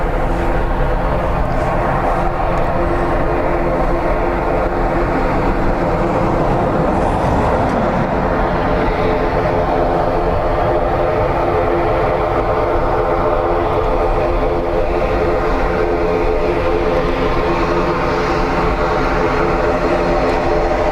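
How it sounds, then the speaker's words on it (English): An ATR turboprop airliner at Dublin Airport makes a steady, loud engine drone with a low propeller hum, continuous and close, swelling briefly in the middle before holding steady. "Nice little noisy ATR next."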